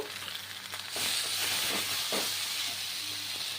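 Vegetables for shukto frying with a ground poppy seed and mustard paste give a loud, steady hissing sizzle that swells after the first second and stays constant, with a few soft stirring scrapes.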